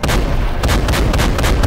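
Dense, rapid gunfire and heavy artillery blasts from the Call of Duty: World at War video game, a loud, continuous barrage of overlapping shots with sharp bursts throughout.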